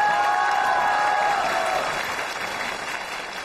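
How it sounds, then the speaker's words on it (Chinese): Audience applause fills a television variety-show stage as comedy performers are welcomed on for a sketch, a steady wash of clapping that fades slightly toward the end, with a sustained musical tone early on. "接下来让我们掌声欢迎赵海燕、宋小宝为我们带来小品"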